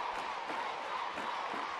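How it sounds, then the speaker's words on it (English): Stadium crowd at a women's field hockey Champions Trophy final between Australia and Argentina, a steady broad roar of cheering and noise filling the whole stretch without a break. "The crowd get into it"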